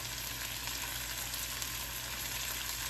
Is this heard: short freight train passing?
no